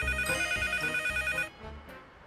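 A telephone on a rooftop in the Leisure Suit Larry: Box Office Bust video game rings with a bright electronic trill for about a second and a half, then cuts off, leaving faint game ambience.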